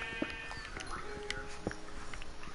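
Sheep bleats in a survival video game, a few short calls standing out amid game sounds while people talk over them.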